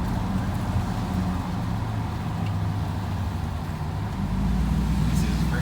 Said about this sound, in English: Small amount of engine braking going on